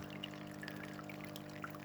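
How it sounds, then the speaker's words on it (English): Water flowing steadily through a homemade fine gold separation machine, a continuous wash of liquid with a low mechanical hum beneath, close and even throughout. "as the water flows through and up over here"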